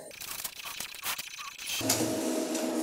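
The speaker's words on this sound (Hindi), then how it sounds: "अब यहाँ पे हमारे प्रिंटर में वो मैटर प्रिंट होने लगा है" Epson L3252 inkjet printer printing a page, a steady mechanical whir and clatter of the print head and paper feed, fairly close with no talk, shifting to a denser hum midway.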